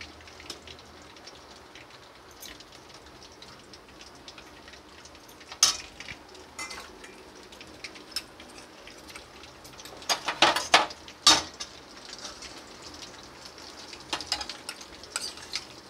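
Whole garam masala and bay leaves fry in hot oil as a tempering, a soft steady sizzle under clusters of loud utensil clatter and stirring in the middle, with no speech.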